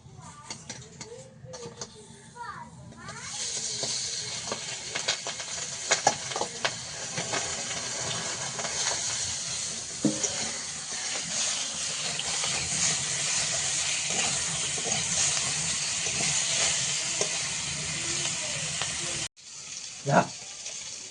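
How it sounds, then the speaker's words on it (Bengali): Fish frying in a very hot wok gives a continuous loud sizzle and hiss that runs for most of the stretch, close to the listener, with a brief break near the end. "কড়াটা বেশ গরম হয়ে গেছে এখন মাছগুলো ভাজতে দেবো"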